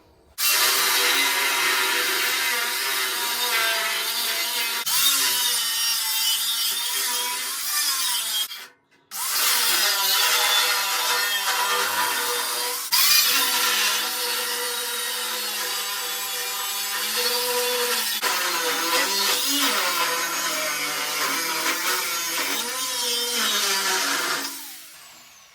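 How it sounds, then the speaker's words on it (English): An angle grinder fitted with a brand-new disc grinds out welds underneath a rear-engine go-kart frame, a loud, continuous harsh whine held for about twenty-five seconds with one brief stop partway through. "there's about 6 welds under here that need grinding out. Got the brand new disc on it."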